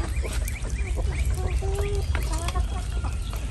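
Ducks quacking around a rainwater puddle formed in a pen of dry grass, a busy cluster of nasal calls repeating in short bursts over steady rain and outdoor background noise.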